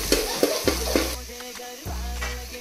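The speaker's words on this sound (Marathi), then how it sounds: "टाकलेले मसाले आता चांगले परतवून घेऊया।" Ground spices fry in hot oil in a pan for Khandeshi dal batti, a soft sizzle beneath several sharp clinks and scrapes of a spoon stirring against the metal.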